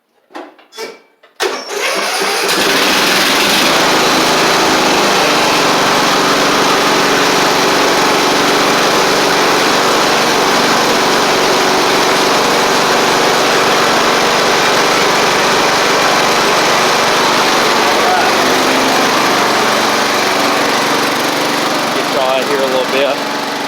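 Engine of a Sabre riding mower running steadily and loud for over twenty seconds as it is driven around, after a few brief knocks and a start at the beginning.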